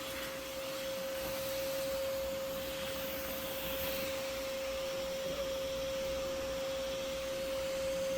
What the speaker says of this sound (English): put the vacuum nozzle back at the original entranceway, and that way I can vacuum up the last bit of this swarm